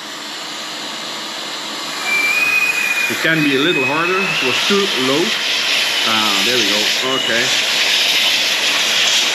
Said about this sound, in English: Sorry about the noise. It's vacuuming,